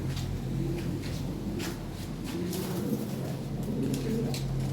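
White Lahori fancy pigeons coo in soft repeated low calls over a steady background hum, close by, with faint clatter and chirps among the birds; no clear speech.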